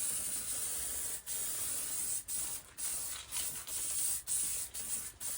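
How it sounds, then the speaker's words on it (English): An aerosol spray can held upside down and sprayed in several sharp hissing bursts, close by, with brief pauses between them, while working on the passenger door of a supercharged 1275cc Classic Mini. "Give it an upside down spray, clear out the nozzle bit."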